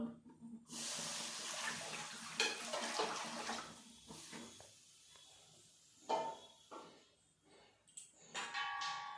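Water poured into a wok to boil peas and potatoes, a steady close splashing pour for several seconds, easing off into smaller trickles and a few light clinks of utensils near the end.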